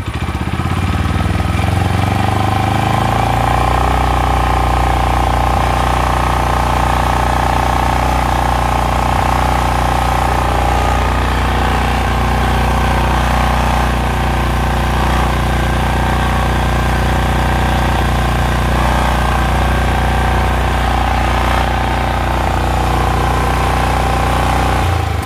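A used Japanese pressure washer and sprayer engine runs loud and steady throughout, its throttle revved and held in a sustained droning roar without talk.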